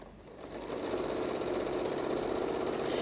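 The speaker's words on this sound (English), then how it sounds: "Lower your foot and continue stitching." Sewing machine starts up and runs in a quick, steady stitching rhythm while binding a quilt, quiet and close with no voices over it.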